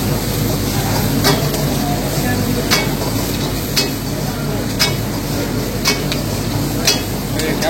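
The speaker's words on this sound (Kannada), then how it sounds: "ನಾವು ನಿಮ್ಗೆ ತೋರಿಸ್ಕೊಡ್ತಾ ಇದೀವಿ ಪನ್ನೀರ್ ಚಿಲ್ಲಿ ಹೆಂಗ್ ಮಾಡೋದು ಅಂತ" Paneer chilli being stir-fried in a new pan in a restaurant kitchen near Whitefield, with a steady sizzle and sharp metal scrapes or taps roughly every second.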